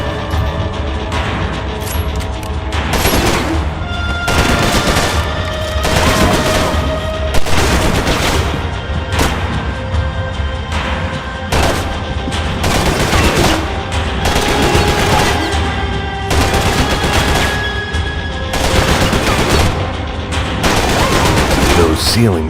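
Bursts of automatic gunfire and single shots ring out in the video game Max Payne 3, loud and close, repeating in irregular volleys throughout over a low game soundscape, with no talking.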